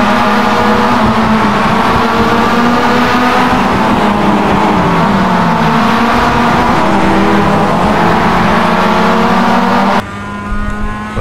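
A Mazda MX-5 race car engine in the iRacing sim at Imola drones loudly and steadily near a constant pitch, with slow rises and falls, then cuts to a quieter, thinner tone in the final second.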